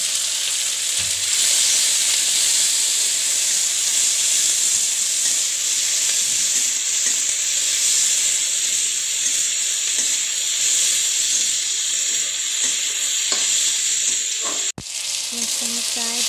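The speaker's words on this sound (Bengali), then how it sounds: "মাছটা আমার প্রায় ভাজা হয়ে গেছে" Bhola fish fries in hot oil with chopped tomatoes, green chillies and salt, giving a loud, steady hissing sizzle that runs unbroken for the whole stretch until a sudden cut near the end.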